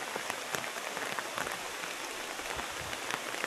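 Steady rain falls outdoors in a dense, even hiss of drops striking surfaces, fairly quiet and unbroken, with no voices.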